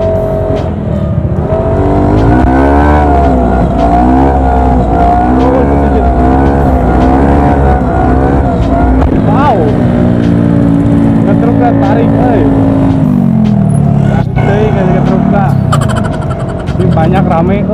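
A Honda Beat 110 ESP scooter engine revs hard and repeatedly during wheelie practice, its pitch rising and falling in loud close surges, with people talking and calling out over it.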